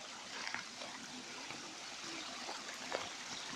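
Water flowing steadily at a dam, a soft continuous trickling rush heard from some distance, fairly faint and even throughout with no voices.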